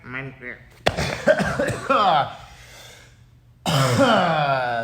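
Harsh, strained coughing and choking sputters from a tight choke during grappling training, in a few bursts close by, with a pause before another strained, gasping burst; speech-like voicing around it.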